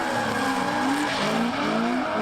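A drift car at a Lone Star Drift competition slides with loud, sustained tire squeal over a roaring, revving engine whose pitch rises and dips as the driver seesaws the angle, close and continuous.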